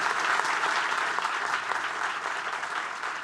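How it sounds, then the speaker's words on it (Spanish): Steady, dense applause from a crowd, sustained and fairly loud throughout with no voices standing out. "un abrazo y un aplauso muy grande para Diego González Rivas y todo el equipo"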